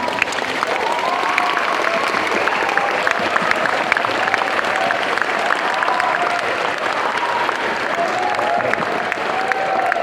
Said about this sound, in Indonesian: saya ingin kawan-kawan berdiri semua dan memberikan aplaus sekeras-kerasnya kepada panitia lokal dan juga Badan Pekerja Kongres